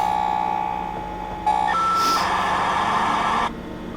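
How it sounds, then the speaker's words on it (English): AOL dial-up modem connecting, with steady electronic tones giving way to a louder burst of harsh, hissing screech and warbling handshake noise that cuts off abruptly. "Ever had the luxury of listening to the AOL dial-up?"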